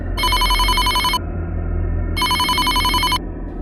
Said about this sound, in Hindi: रात को 2:30 बजे शशिकांत के मोबाइल की घंटी बजी